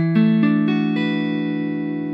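A guitar E9th chord is struck and strings ring out as a few quick arpeggiated notes before sustaining, played with a finger pressing too hard so the chord sounds slightly flat; close and clear, with no talking.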